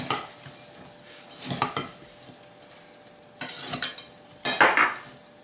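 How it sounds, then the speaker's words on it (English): Apple slices with sugar, cinnamon and nutmeg are tossed in a bowl, making several short bursts of scraping and clinking as a utensil strikes and stirs, separated by quiet pauses. "Just going to mix that all up."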